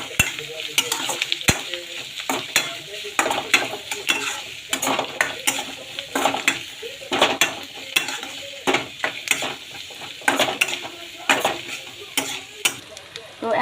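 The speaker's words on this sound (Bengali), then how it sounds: "পেঁয়াজটা এখন নাড়া হবে, নাড়তে হবে।" Onions are stirred and fried in a pan, with a loud sizzle broken by repeated sharp scrapes and clinks of a utensil against the metal in an uneven rhythm.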